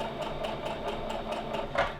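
Sewing machine with a ruffler foot stitching a tiered ruffle skirt, a steady rapid mechanical whir with a faint rhythmic tick, moderately close and alone.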